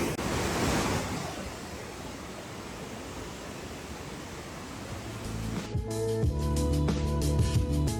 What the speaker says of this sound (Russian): и увидели водопад